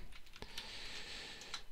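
Typing on a computer keyboard at a console, with a quick run of light, close key clicks and a couple of sharper taps, heard alone without speech.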